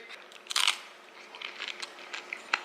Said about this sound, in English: Got good crunch action on that one.